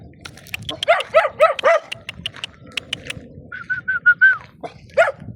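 A dog barks four times in quick succession, close by, then after a pause with a high whine, lets out one more sharp bark.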